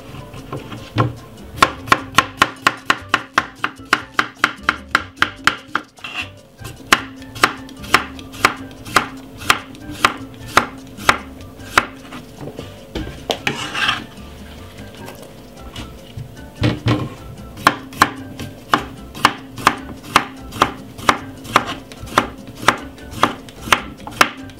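A knife chops a medium tomato and a cucumber on a wooden board, striking in quick, even runs of sharp, close knocks with short pauses between the bursts.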